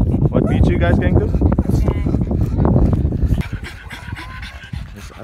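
A dog pants rapidly and heavily right beside the microphone with a rough wind rush, then the breathing quiets and grows more distant toward the end.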